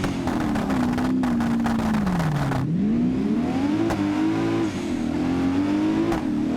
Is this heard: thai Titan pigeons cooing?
no